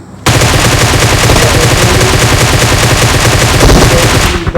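Groza assault rifle in a PUBG Mobile match fires a long, loud unbroken burst of rapid automatic shots, close and dominating, starting abruptly and running for over four seconds before trailing off.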